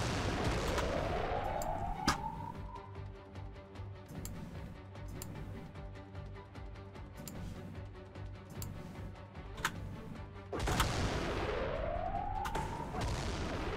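Gunfire in the turn-based strategy game Xenonauts 2, with sharp shot cracks scattered through a steady background hum, two sweeping energy-weapon whines and a louder burst near the end, heard alone at moderate level.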